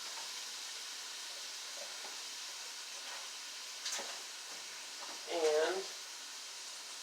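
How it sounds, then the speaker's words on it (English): Ground turkey sizzles in a pan as a steady, faint hiss under a voice talking close by, with a couple of brief louder crackles. "But start to get my ground turkey cooking in here."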